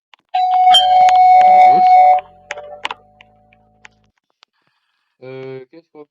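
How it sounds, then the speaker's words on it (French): A doorbell chimes in the Roblox game Brookhaven, a loud, clear electronic ring lasting about two seconds, followed by small clicks, a short tone and a brief voice near the end. "Alors, la sonnette."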